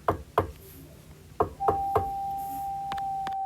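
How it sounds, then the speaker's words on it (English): Knocking on a coach door: sharp raps come in uneven pairs and singles, and a steady high electronic tone holds through the second half. "the driver heard a knocking coming from the coach"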